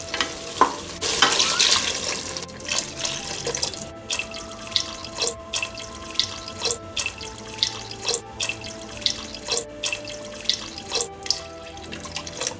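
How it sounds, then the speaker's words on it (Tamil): Water poured into a cooking pot for Tamil-style moong dal kitchadi, a rushing pour at first, then repeated short splashes and clinks at a steady rhythm, close by and without talk. "இப்போ 8 கப் அளவு தண்ணி சேர்த்தாச்சு."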